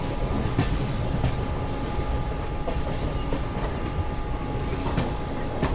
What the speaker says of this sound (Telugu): మనకు విశాఖ ఎక్స్ప్రెస్ అయితే వచ్చింది